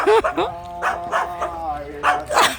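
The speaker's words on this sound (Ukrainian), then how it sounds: "аж собака загавкала" A dog barks in a few loud, sharp bursts. The barks are mixed with a person singing a folk song nearby, and the barking and voice overlap closely.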